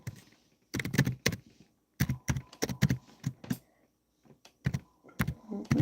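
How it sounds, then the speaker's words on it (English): Bursts of rapid keyboard typing, close and clear, separated by short pauses of quiet. "I'm typing on your thing now"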